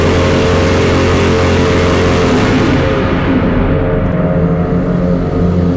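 A Lamborghini Aventador Gintani engine revving inside a tunnel, a loud, steady, booming roar held for several seconds with strong echoing resonance, easing slightly partway through; no voices.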